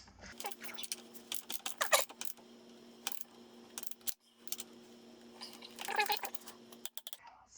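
A torque wrench tightens the rear wheel axle nut on a Kawasaki KLX140 mini supermoto, with a scatter of sharp metallic clicks and ratchet ticks, close and moderately loud, broken by brief pauses.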